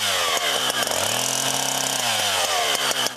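Chainsaw run by a city forest-park crew, a loud, close, continuous engine whine that rises in pitch midway and drops back, with no talk.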